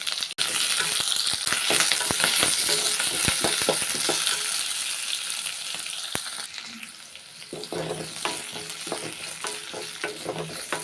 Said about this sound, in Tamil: வெங்காயம் வதங்கும் போதே நான் வந்து பூண்டு சேர்த்துக்கிறேன்